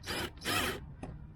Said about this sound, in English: So I'm gonna use the drill first to get that